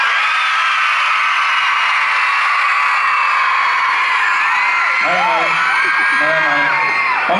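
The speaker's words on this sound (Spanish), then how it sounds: "Quiero escuchar a este equipo gritando a la una" A team of children at a Violetta show in Monterrey shouts and whoops together in a loud, sustained crowd roar, with an amplified voice talking over it before the cheering swells.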